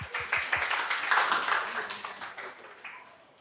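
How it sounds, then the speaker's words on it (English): Audience applause at a May 2022 meetup, a dense wash of many hands clapping at fairly close range, swelling briefly then tapering off over a few seconds. "A big round of applause, please,"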